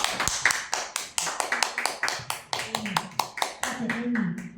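A small audience claps to welcome a presenter at a Nu Skin event, sharp, distinct hand claps in a quick, uneven run that thickens toward the end, with voices murmuring underneath.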